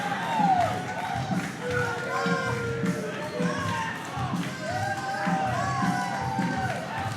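A crowd at a boxing weigh-in cheers and murmurs in a steady, moderate roar, with scattered shouts and a whistle-like call rising above it, while a commentator talks over the noise.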